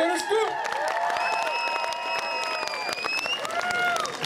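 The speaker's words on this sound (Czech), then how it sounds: "Takže potlesk pro Věrušku" A crowd at a village feast celebration claps for a contestant, giving dense applause with scattered cheers and sustained tonal sounds running through it.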